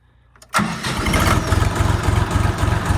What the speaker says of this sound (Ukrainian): Зараз я запущу, заведу трактора і продемонструю.